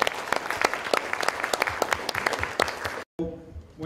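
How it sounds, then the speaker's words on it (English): Audience applause at a creative cities forum, many distinct hand claps in a busy, fairly close burst that cuts off abruptly near the end, followed by a brief voice. "Please join me in giving an applause."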